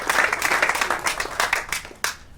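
A short burst of lively applause from a small crowd at a ribbon-cutting ceremony, steady clapping that tapers off toward the end.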